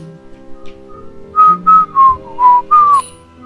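Someone whistles a short tune alone, five clear sustained notes in a row, near and loud over quiet game background sound.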